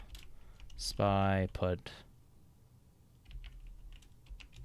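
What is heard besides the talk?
typing on a computer keyboard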